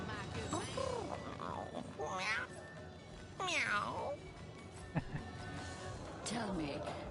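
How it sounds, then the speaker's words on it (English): A cat meows several times in the video game Divinity: Original Sin Enhanced Edition on PS4 Pro, rising and falling calls spread across the scene, with a person talking over parts of it. "Oh, hello, it's a cat."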